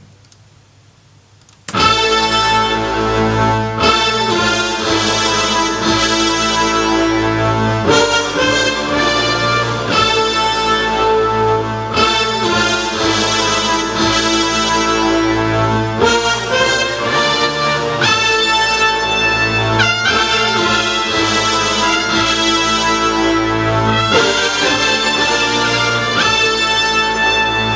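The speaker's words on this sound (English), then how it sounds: "I added some extra horns and brass to kind of create the chorus." Full-band music track chorus layered with added horns and brass, dense and loud throughout after a brief quiet lead-in, with steady beat-driven sections and short breaks.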